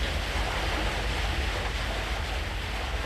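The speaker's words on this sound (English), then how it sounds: "The Lhasa River has turned into the roaring Yarlong Sangpo, Tibet's principal waterway." Roaring Yarlung Tsangpo river in Tibet, a dense, steady rush of turbulent water, loud and unbroken throughout with a deep low rumble.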